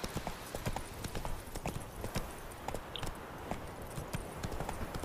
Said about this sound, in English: Horse, run faster.